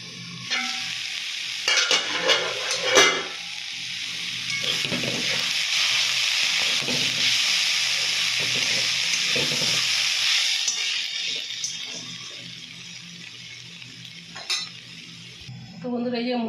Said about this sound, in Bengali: এই যে মূলো শাক ভাজা হয়ে গেছে আমার